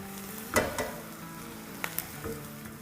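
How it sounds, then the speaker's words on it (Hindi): Garlic and green chillies fry in a pan while making Nepali spiced potatoes, a steady close sizzle with a few sharper crackles and stirring clinks, and no talking. "2 मिनट भूनेंगे ताकि लहसुन और हरी मिर्चें भी सुनहरी हो जाए।"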